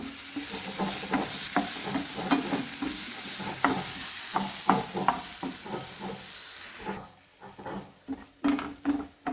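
Onion, chili and curry leaves fry in a pan with mustard seeds for a drumstick-leaf thoran, a continuous crackling sizzle punctuated by frequent close spatula scrapes, thinning to sparse loud stirs near the end.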